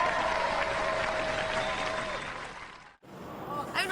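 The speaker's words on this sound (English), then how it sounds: "give them a round of applause." A studio audience claps for the Robot Wars team King Buxton, a dense spell of applause that fades out after a few seconds, followed by a voice speaking.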